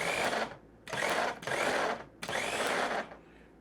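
An electric food chopper dicing vegetables whirs in three loud, steady bursts of motor noise, each lasting roughly a second, with short pauses between them.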